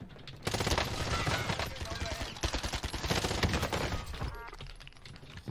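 Rapid gunfire in a Warzone match, dense loud bursts of automatic shots running almost continuously, with a brief lull near the end and a few more shots before it cuts off.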